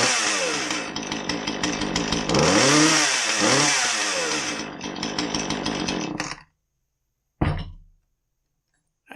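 A Husqvarna 135 chainsaw, low on power, roars to life and runs loudly, revving up and down for several seconds, cuts out, then sputters briefly once more.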